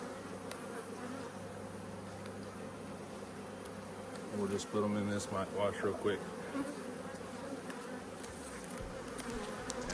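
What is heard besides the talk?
honey bees buzzing during hive check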